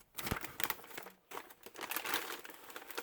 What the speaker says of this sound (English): So let's take it out of the package and see what it looks like.